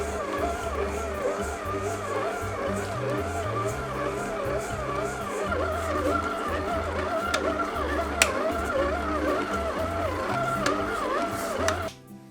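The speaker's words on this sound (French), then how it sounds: "c'est parti pour un premier pétrissage de 10 minutes en vitesse 1" A stand mixer kneads brioche dough at speed 1, giving a steady low mechanical whir with a rhythmic thumping wobble as the dough turns in the bowl; the motor stops at the end.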